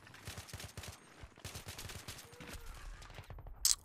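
Bursts of AN-94 assault rifle fire in Battlefield 3, a steady run of fairly quiet rapid shots lasting about three seconds, followed by a sharp louder crack near the end.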